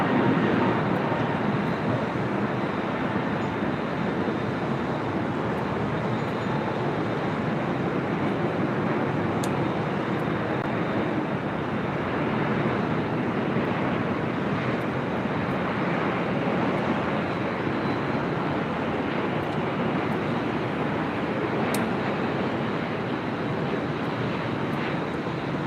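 Delta jet rolling for takeoff on runway 24 left at LAX, a loud sustained engine roar with dense broadband hiss that stays strong and steady across the whole stretch.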